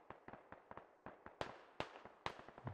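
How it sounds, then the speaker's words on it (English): Bursts of automatic machine gun fire in the military shooter game Squad, a few short rattling strings of rapid shots at moderate distance, growing louder and sharper toward the end. "Take a look at the machine gun fire here from nuclear."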